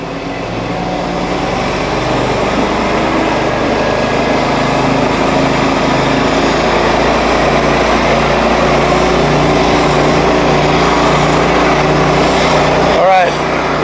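A HotJet 2 37HP fuel-injected trailer-mounted sewer jetter engine runs loud and steady, a continuous droning hum close by that holds level throughout, with a brief clatter near the end.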